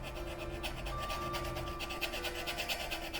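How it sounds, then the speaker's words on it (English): A tool burnishing down the raised tops of a sandpaper-like textured printmaking plate, producing a steady close rasping rub with rhythmic scraping strokes throughout, alone without talk. "we're just burnishing down all the tops, just like a sandpaper textured surface here"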